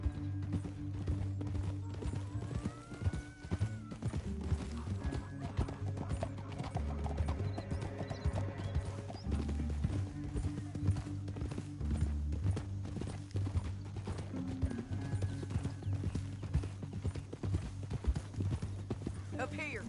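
Rapid clip-clop of several horses galloping in the video game Red Dead Redemption 2 runs throughout, with a horse whinnying and people talking over the hoofbeats and background music.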